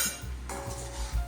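Lid set onto a container of homemade sardine pickle; a few close clinks and light taps of lid against the vessel within a second, with a faint ringing tone and low background rumble.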